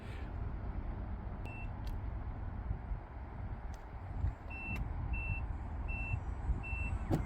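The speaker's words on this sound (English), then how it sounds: "you see it beeps 4 times just to let you know that you're close" Four short, evenly spaced electronic proximity beeps from a 2025 Chevrolet Equinox RS as the key fob nears, before the liftgate opens, ring out over a steady engine idle and low rumble, with a couple of faint clicks earlier.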